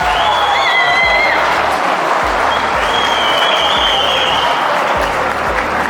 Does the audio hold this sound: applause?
yes